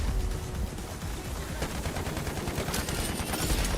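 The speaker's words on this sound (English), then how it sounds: "Artillery barrage incoming." An artillery barrage in the video game Delta Force, dense overlapping gunfire and booming blasts, loud and continuous with rapid bursts.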